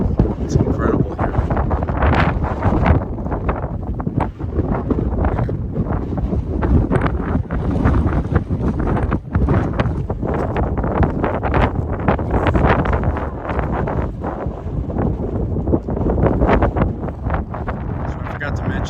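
Strong wind at a mountain viewpoint about 1,580 feet up, Keys View in the California desert, buffets the microphone continuously in a loud, dense roar with constant gusting rumble throughout.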